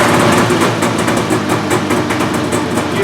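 Small engine on a Jag 3000 FC, primer-started with no choke, running steadily and loud close by with a buzzing, continuous drone and no voices.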